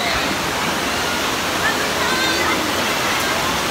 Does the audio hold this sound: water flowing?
yes